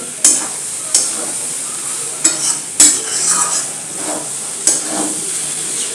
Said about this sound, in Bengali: আমি গরম মশলা দিলাম দিয়ে এটাকে মিক্সড করছি